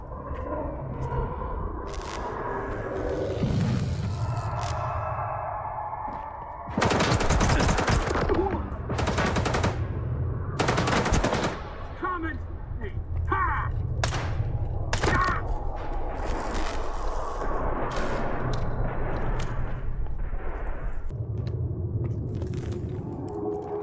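Heavy gunfire in the shooter game S.T.A.L.K.E.R. 2: Heart of Chornobyl, loud automatic bursts and single shots that come in clusters with rumbling echoes between them, and no talk.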